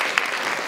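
A brief burst of clapping hands, steady and fairly loud throughout, with no voices over it.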